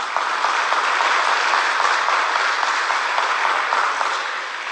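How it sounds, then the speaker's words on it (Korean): Congregation of brothers and sisters at a church gathering applauding in honor, a steady dense wash of clapping sustained loud throughout with no voices above it. "형제 자매님들에게 존경의 박수를 보내고 싶습니다"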